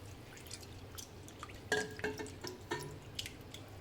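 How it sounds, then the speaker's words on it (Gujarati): Toor dal being rinsed in water in a home kitchen, with quiet drips, splashes and a few clinks against the vessel, close and faint, no talk. "એને આપણે પાણીથી સારી રીતે ધોઈ લઈશું"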